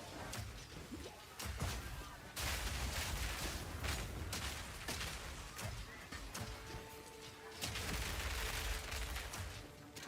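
Explosions from grenades in the action RPG Path of Exile 2, a dense barrage of loud bursts and crashes packed close together, with a double blast among them and a few tonal game effects layered over the chaos, no voices.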